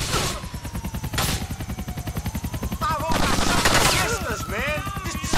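Rapid bursts of automatic gunfire crackle in GTA IV: The Ballad of Gay Tony, a steady rattling stream of shots with louder clusters and whooshing effects layered over it, close and dense throughout.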